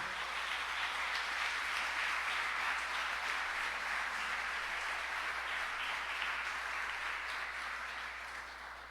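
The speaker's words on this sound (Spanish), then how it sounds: "denle un aplauso fuerte a Dios si usted lo cree" A church congregation applauds loudly for God during a sermon, a dense sustained roar of clapping that gradually tapers off near the end.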